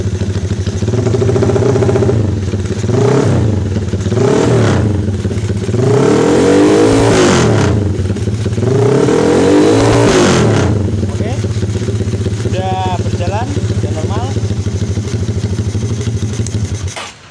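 A KTM motorcycle engine idles and is revved several times in loud, rising and falling bursts, then settles back to a steady idle close by.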